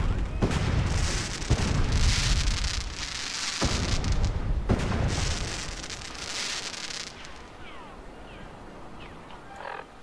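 Fireworks exploding over a park at night in the Fallout video game, a rapid crackling barrage of loud booms and bursts for several seconds before fading to scattered distant pops.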